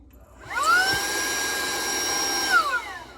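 A faulty Wyze handheld vacuum whirs up with a rising whine, holds a steady high-pitched hum for about two seconds, then winds down and cuts out, heard up close with no talking.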